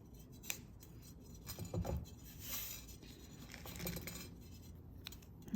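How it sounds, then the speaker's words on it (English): Scissors snip excess jewelry wire during beadwork, giving a few faint, brief metallic clicks and cuts in a quiet room. "Excess we cut."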